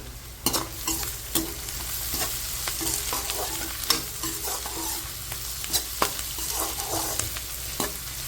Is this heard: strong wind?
no